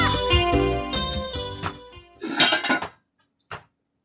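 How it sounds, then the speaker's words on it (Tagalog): Metal cooking pot and casserole lids clinking and clattering close by in a home kitchen, a dense run of bright clanks for a few seconds followed by a couple of sparse, isolated knocks. "Aglukat kay ti kaldero kada kasirula."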